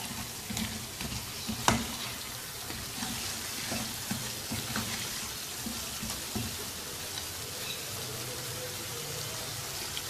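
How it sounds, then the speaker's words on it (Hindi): Potato cubes frying in a pan give a steady, fairly soft sizzle with occasional stirring scrapes and a sharper knock near the start, heard alone with no talking. "मिक्स कर लेंगे अच्छी तरह से और 1-2 मिनट इन आलूओं को भूनेंगे।"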